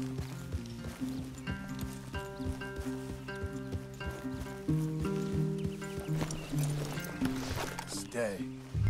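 Horses in the video game Red Dead Redemption 2 clip-clop at a steady rhythm under game music and dialogue, their hoof beats fairly clear beneath the talk.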